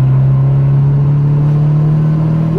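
A Mitsubishi Eclipse on a Speeduino setup boosts hard in third gear, its engine note loud, close and rising steadily in pitch as it pulls.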